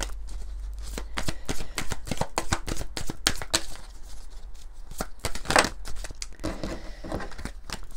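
A deck of oracle cards being shuffled up close, with a steady run of quick papery riffles and flicks across the whole stretch, loud and alone without any talking.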